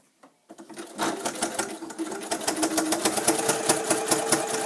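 Sewing machine stitching zigzag batting strips, a rapid steady run of needle strokes starting after a brief pause and continuing at a close, even pace; no talking.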